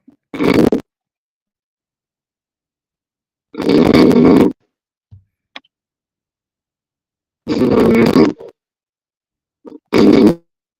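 Loud, rasping snores come in slow regular bursts about every three to four seconds, harsh and distorted as if through a poor connection.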